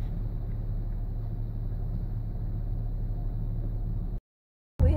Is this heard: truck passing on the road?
yes